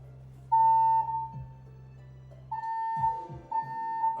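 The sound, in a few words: fire alarm going off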